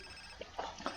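A phone rings in the video game GTA San Andreas as a few faint, short electronic trill bursts repeating quickly over a quiet background hum.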